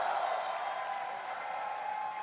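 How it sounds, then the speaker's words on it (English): Audience applause in an esports arena after a League of Legends World Championship Game 5 between SK Telecom T1 and ROX Tigers, a steady dense wash of clapping held at a moderate level throughout. "Applause is in order."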